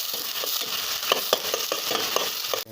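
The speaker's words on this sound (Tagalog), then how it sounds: "igisa natin hanggang maging golden brown ang ating chicken" Chicken pieces sautéing in a pan until golden brown, for adobong sitaw: a steady close sizzle and hiss with regular soft scrapes of a stirring utensil about every quarter second, no talk.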